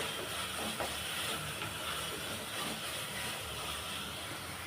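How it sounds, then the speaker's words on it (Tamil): A continuous loud sizzle hisses without pause as spices sauté hard in a hot pan, with no talking. "இந்த மசாலாவெல்லாம் நல்லா பச்சை வாசனை போகிற அளவுக்கு நல்லா வதக்கி விட்டுடலாம்"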